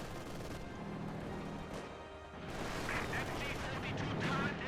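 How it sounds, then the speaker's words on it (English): Light machine gun fire from German Panzer Grenadiers in Company of Heroes 2, sustained bursts of gunfire blended with game battle noise and explosions, continuous throughout at moderate level. "Grenadiers flanking in there with a light machine gun. Opening up on the Russians"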